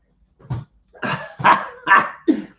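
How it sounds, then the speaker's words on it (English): A pet dog barks indoors at home, wanting to be let out: about five sharp, fairly close barks in an uneven rhythm, with short gaps between them. "Oh, and the dog wants to come out."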